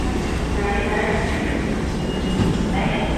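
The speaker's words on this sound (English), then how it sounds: "Alright, I'm gonna get on a train here." A PATH subway train rumbles loudly and steadily at the Hoboken Terminal station in New Jersey, with a constant low roar and faint voices in the background.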